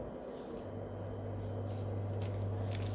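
Minced chicken mixed with plenty of cracked eggs for kebabs is worked by hand in a bowl, a soft, steady wet squishing that runs without pause under a constant background hum, with no talk.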